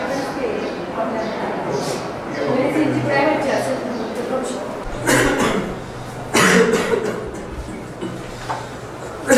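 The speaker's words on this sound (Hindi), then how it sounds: "बहुत खांसी होती है।" Coughing from a person with tuberculosis, a few harsh bursts scattered over continuous background speech and room noise, moderately loud.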